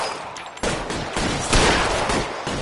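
A rapid volley of gunshots in the L.A. Noire video game crime shootout, loud and dense with overlapping shots and little pause between them.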